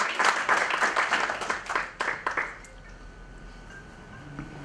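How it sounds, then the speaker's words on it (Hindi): Audience applause at a literary gathering in Jaipur, a dense burst of many hands clapping for about two and a half seconds before thinning out into scattered claps and quiet room noise. "जोरदार तालियां हो जाएं"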